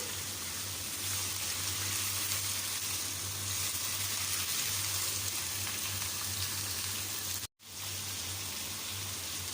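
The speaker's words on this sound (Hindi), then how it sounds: "इसको उस वक्त तक फ्राई करेंगे जब तक गोश्त का कलर थोड़ा चेंज नहीं हो जाता" Mutton sizzling and frying steadily in a pot, a continuous close hiss of hot oil with a low hum underneath and a momentary dropout near the end.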